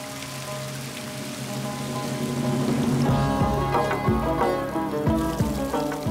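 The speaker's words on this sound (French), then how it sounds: "lorsque la pluie arrive, elle peut s'abattre avec fureur" Sudden, intense desert downpour arriving in a brief burst, with rain pattering onto a surface that swells from a soft hiss to loud, dense drumming with distinct heavy drops.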